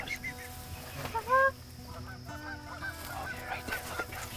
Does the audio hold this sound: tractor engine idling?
no